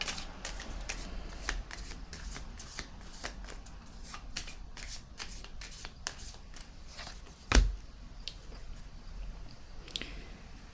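Tarot cards being shuffled by hand in quick repeated riffles and slides, steady and close, with one brief louder knock partway through.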